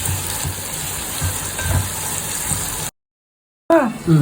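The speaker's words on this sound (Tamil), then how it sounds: "இது வெங்காயம் வதங்குறது." Onions and green chillies with a pinch of salt sauté in a pan, giving a steady close sizzle and crackle. A brief silent gap follows, and then a louder burst of kitchen clatter.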